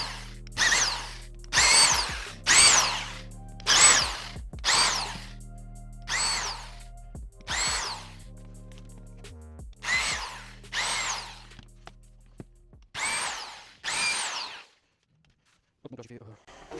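A power drill drives screws into wooden planks while a motorcycle stand is built, with about a dozen separate whirring bursts of a second or so each, steady and close, separated by short pauses.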